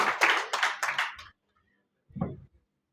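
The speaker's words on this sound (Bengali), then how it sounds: "সকলেই আমরা স্যারের জন্য আরেকটা জোরে করতালি।" Hands clap at an award and crest-presentation ceremony: a quick run of about five claps, a short pause, then one more single clap, with no one speaking.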